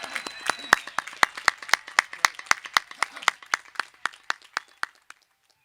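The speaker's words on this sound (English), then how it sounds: "let's give a round of applause for these graduates" Scattered clapping at a spring college commencement for graduates, sharp separate claps at a fairly even pace that thin out and stop near the end, with a few hands rather than a full crowd.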